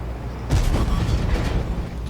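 A tank cannon shell is fired in a tank video game, one heavy, close boom with a rumbling low tail that lingers for over a second.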